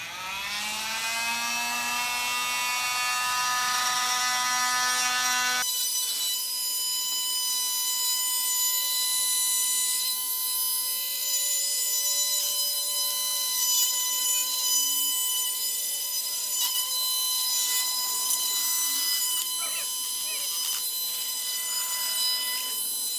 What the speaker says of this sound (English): Then we cut it with an oscillating multi-tool.